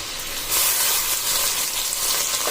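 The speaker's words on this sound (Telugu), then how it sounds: "మంచి టేస్ట్ కావాలంటే బాగా ఉల్లిపాయ ముక్కలు అయితే బాగా వేగాలి" Onion pieces frying in a pan for a hilsa fish curry, a dense close sizzle that swells sharply after the first half-second and then holds loud and steady, with no talk.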